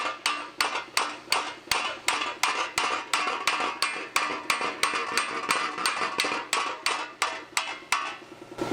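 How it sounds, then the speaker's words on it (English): Rapid, steady hammer blows on a dolly shaping welded sheet metal, sharp metallic ringing strikes repeating about three times a second, close and loud with no talk. "with just a hammer and dolly."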